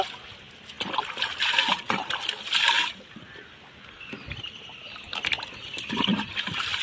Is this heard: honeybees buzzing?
no